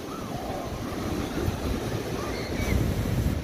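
Ocean waves wash onto a sandy beach on a summer day, a steady broad surf roar with wind buffeting the microphone, swelling slightly louder toward the end.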